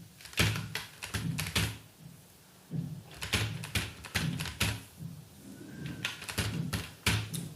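Quiet, irregular clusters of key clicks as an Aadhaar card number is typed on a computer keyboard, with short pauses between bursts and no speech.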